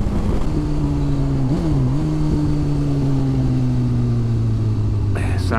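Suzuki K8 GSX-R1000 motorcycle engine drones loud and close under heavy wind rush, its pitch dipping briefly and then sliding slowly lower as the revs ease off.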